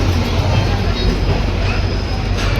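Gorakhpur Express train at a crowded station platform, a loud, dense, continuous rumble and roar from very close by with no break.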